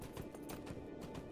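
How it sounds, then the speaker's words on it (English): Horse hooves clopping in a steady quick rhythm as a rider travels in the video game Lord of the Rings Online, with a faint, even beat over low background game sound. "and then I'm going to have to ride my horse all the way up to the High Pass"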